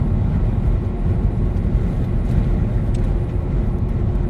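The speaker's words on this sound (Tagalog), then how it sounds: "Lalaki ng mga truck." Heavy trucks rolling past on a highway near Wellsford, New Zealand, as a continuous loud low rumble of traffic noise with no talking.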